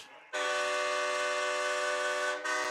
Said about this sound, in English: Not really sure that honking horn is coming from.